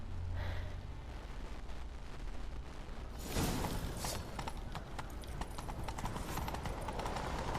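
Hooves pound in a steady, rapid gallop in The Witcher 3 video game that continues throughout, with a rumbling, noisy layer and a sharper burst partway through.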